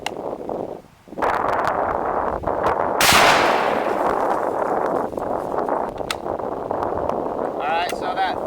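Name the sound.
rifle shot, 7.92x57 150 grain Speer hand load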